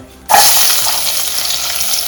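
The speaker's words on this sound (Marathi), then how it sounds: "आता मी फोडणी करते बघा त्यासाठी हा कांदा येत आहे" Chopped onion dropped into hot oil for tempering, which bursts into a loud, close, continuous sizzle right after a brief quiet moment.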